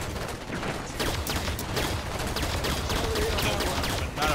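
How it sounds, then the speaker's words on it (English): Enemy soldier gunfire in the Halo video game, a dense, continuous barrage of rapid shots close by, loud and unbroken for several seconds. "Taking fire from a soldier!"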